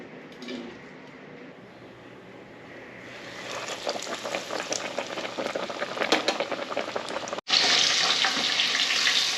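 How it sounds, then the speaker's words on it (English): Pork tenderloin, hand breaded and cut thick, bubbles in a deep fryer with a steady hiss of hot oil that grows louder and denser, then jumps sharply near the end as it is lifted out after about three minutes. "I am pulling this out of the fryer at just over 3 minutes in there because you can see this is nice and golden brown"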